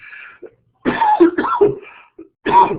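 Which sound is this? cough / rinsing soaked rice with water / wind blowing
cough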